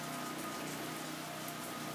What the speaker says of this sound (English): that noise is our generator